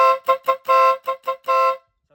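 Compact rapid vehicle horn blasts loudly at close range in a pattern of short toots and longer held honks, with a harsh, slightly rough tone, then stops.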